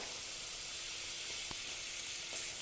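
Hot water poured into a pan of potato curry (aloor dum) sets off a steady, broad sizzle and hiss of steam, close by and fairly quiet, with a couple of faint clinks.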